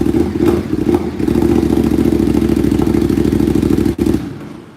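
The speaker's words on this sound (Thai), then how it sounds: "ท่อ SC Project นะครับคุณลูกค้าเสียงดังลั่นเลยนะใครชอบรถท่อดังๆนะตอนนี้ต้องเป็นดูเครื่องยนต์2สูบของทาง ดูคติมอนสเตอร์เลยนะครับ" A Ducati Monster two-cylinder motorcycle with a loud SC Project exhaust runs close by, giving a steady, booming, throbbing idle with a brief dip before it settles again.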